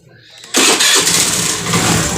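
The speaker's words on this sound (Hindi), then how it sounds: "तो गाड़ी को स्टार्ट करेंगे इस तरह से" A Honda Grazia BS4 scooter with an engine sound problem starts after a brief quiet lead-in, then its engine catches abruptly and runs loud and steady at close range, with no talk over it.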